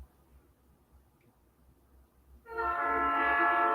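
A train approaches near a hot melt-processing setting and sounds its horn, which breaks in abruptly after a quiet low rumble and holds loud, rich and sustained to the end.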